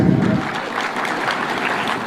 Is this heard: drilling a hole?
no